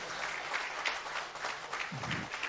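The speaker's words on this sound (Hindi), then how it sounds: "इनके लिए जोरदार तालियां हम सब की तरफ से रहे।" Women in an audience at a Bastar, Chhattisgarh community event give sustained, fairly quiet applause for a local youth group, the clapping steady and somewhat distant.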